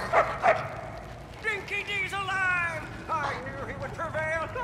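Dog in the Mad Max video game making a few short barks and yips near the start, followed by game characters talking over background ambience.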